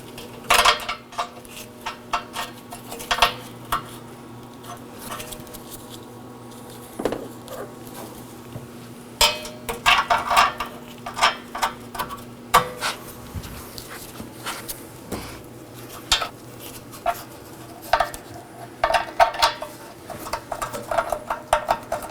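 Nuts tightened onto the rear bumper reinforcement of a 2014-2019 Nissan Sentra give close, repeated metallic clinks and short ratcheting bursts that continue steadily throughout.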